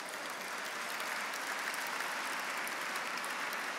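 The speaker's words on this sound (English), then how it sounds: "Please give them a big round of applause." Audience applause at a charity gala held in a bank atrium, heard as a steady, dense wash of clapping that stays fairly faint and distant.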